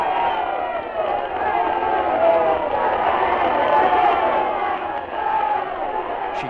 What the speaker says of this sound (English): she heard the sound of cheering and shouting